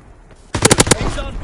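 A strafing run in a video game brings a quiet lead-in, then a sudden burst of four or five rapid machine-gun shots, loud and close, with a ringing decay afterwards.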